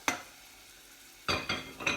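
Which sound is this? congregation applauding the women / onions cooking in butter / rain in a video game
onions cooking in butter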